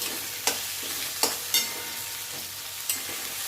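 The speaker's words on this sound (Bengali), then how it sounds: "এবার পেঁয়াজটা একটু ভাজা ভাজা করে নেব, হালকা লালচে বাদামি হবে।" Onions frying in oil in a pan until light reddish brown, a continuous close hiss of sizzling broken by four sharp scrapes of a spatula stirring, with no voices.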